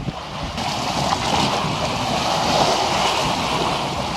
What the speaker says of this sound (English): you should be able to hear the lapping of the waves against the foreshore